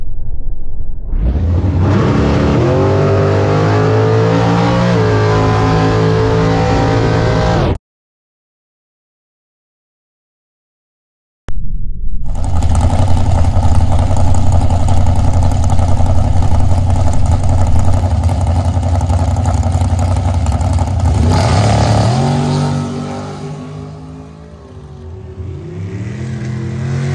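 Drag racing cars accelerating down the strip, loud roaring engines climbing through the revs in long pulls, one run cut off abruptly then another sustained howl fading toward the end, with no talk.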